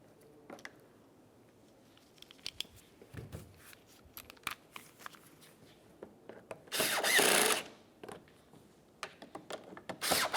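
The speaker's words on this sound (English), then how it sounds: "let's start by installing each of the lower mounting bolts" A power tool drives the lower mounting bolts of a license plate bracket on a 2006-2011 Honda Civic: one short, fairly loud whirring burst amid faint clicks and handling noises.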